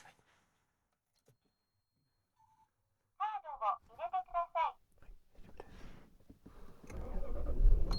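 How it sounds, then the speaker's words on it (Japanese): After a quiet stretch and a short burst of talking, a first-generation Toyota Celsior's engine starts and settles into a soft, low rumble that swells gently, close by. "エンジンかけてみます。"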